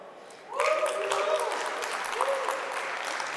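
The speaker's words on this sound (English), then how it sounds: "I appreciate the applause" Applause from a conference audience after a talk at a Solana blockchain event, a moderate burst of clapping starting suddenly and continuing at an even level, with faint tones and some voice under it.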